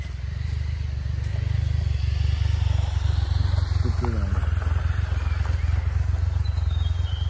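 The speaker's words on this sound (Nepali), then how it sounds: "त्यो एउटा भुटभुटे आउँदैछ" A motorbike approaches along a village road, its heavy engine rumble steady and loud throughout, with a brief faint voice partway through.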